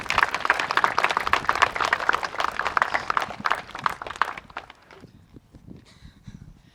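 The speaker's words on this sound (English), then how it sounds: "A little round of applause, please." Wedding ceremony guests applaud in a dense, lively burst of clapping that carries for about four seconds, then thins out and fades to a few scattered claps.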